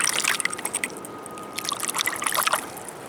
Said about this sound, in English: Let's give it a little wash.